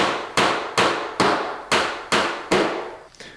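Six sharp hammer blows driving nails into a wall to mount wire shelf brackets, evenly spaced about half a second apart, loud and close, with no talk.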